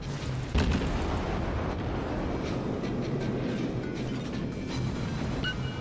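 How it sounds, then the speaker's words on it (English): Naval gunfire and shell explosions in the World of Warships video game, a dense continuous rumbling roar with heavy booming blasts layered throughout. "They are returning fire at us now."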